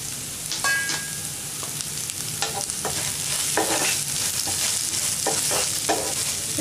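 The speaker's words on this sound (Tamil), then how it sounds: "இப்போ வெங்காயம் போட்டுக்கலாம், நீல வாக்கில் கட் பண்ணியிருக்கேன்." Sliced onions fry in a little oil in a pan, with a continuous close sizzle and intermittent scraping and stirring sounds, no talking.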